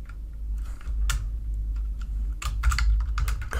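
Computer keyboard typing as code is entered, steady clicking keystrokes with faster flurries, close and clear over a low hum, no talk.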